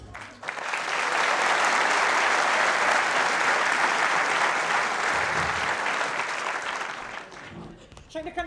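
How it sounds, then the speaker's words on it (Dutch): A theatre audience bursts into thunderous applause for the start of a television quiz show, a dense, loud wash of clapping that swells quickly, holds steady for several seconds and then tapers off near the end. "Mag ik van u een daverend applaus voor Spot Uit"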